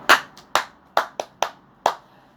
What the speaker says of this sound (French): Applaudissez pour vous tous.